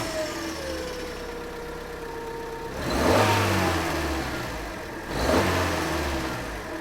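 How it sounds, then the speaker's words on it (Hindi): A car engine idles with a steady mid-pitched rumble, then revs up twice in distinct surges before settling back, heard close and alone. "आओ, कार के इंजन की आवाज सुनें।"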